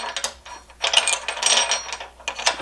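A bolt is tightened on aluminum framing in a van build, producing a series of close metallic clicks and ratcheting scrapes in short irregular bursts.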